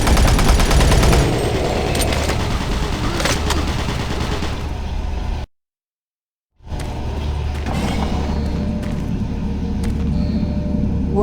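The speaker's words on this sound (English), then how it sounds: "Warning. Automated turret guns online." Automated turret guns fire in Doom 3 BFG in dense, loud continuous bursts, cutting out to silence for about a second partway through before the rapid fire resumes.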